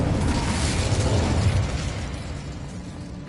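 Incendio fire spell cast in the video game Hogwarts Legacy, a dense, roaring burst of flame that sounds loud from the start and eases off slightly over a few seconds.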